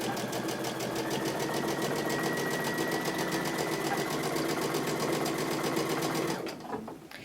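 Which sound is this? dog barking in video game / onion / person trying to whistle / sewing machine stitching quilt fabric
sewing machine stitching quilt fabric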